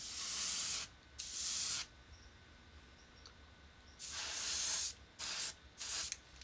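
Spectraflame paint sprayed onto a Hot Wheels Redline die-cast car in short hissing bursts, two near the start and three more toward the end, with quiet gaps between them and no talking.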